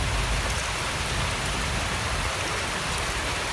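Steady rain falls outdoors across rural farmland in Bicol, Philippines, a dense, even hiss of drops on surfaces continuing without a break and with no talking.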